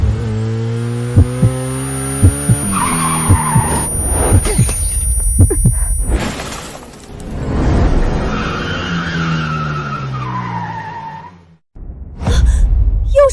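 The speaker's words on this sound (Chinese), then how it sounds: "车身稳定住了，但出弯速度掉了， 打滑了。" Motorcycle rear wheel skidding while cornering on a gravel-strewn track: loud tire scrubbing and engine roar in bursts, with a dramatic music score underneath.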